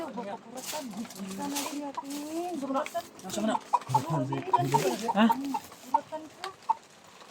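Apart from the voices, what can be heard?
chicken clucking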